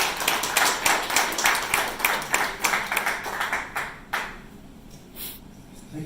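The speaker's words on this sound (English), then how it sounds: "Big round of applause for Rick" Small audience clapping for a town councillor at a restaurant inauguration in Milton, a sparse, uneven round of individual claps that thins out and fades after about four seconds.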